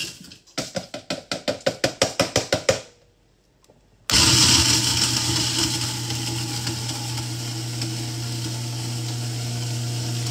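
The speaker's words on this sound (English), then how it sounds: "Ice in the garbage disposal." Kitchen garbage disposal grinding ice: a rapid series of rhythmic clacking pulses, a short pause, then a loud continuous motor whir and churning grind, close and alone.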